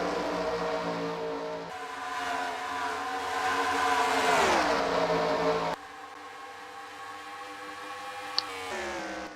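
Race cars in a racing video game drone past with steady whining engine tones, pitch sweeping as cars close in and pull away, a sustained loud mechanical hum with an abrupt cut partway through.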